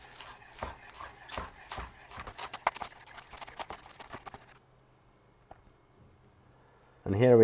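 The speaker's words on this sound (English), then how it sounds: "So let's take a cutting board and cut the green onions." Rapid knife chops through green onions on a cutting board, a quick steady rhythm of crisp taps for several seconds, then quiet, ending in a burst of noise.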